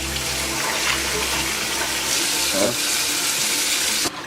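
Cold tap water runs steadily over an ice-dyed shirt being rinsed, a continuous close splashing flow that cuts off abruptly near the end.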